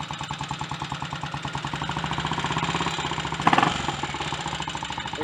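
A Triumph Tiger Cub motorcycle engine, freshly rebuilt, idles as it warms up, with a close, rapid, even pulsing exhaust beat, a brief louder blip of revs near the middle, then a return to steady idle.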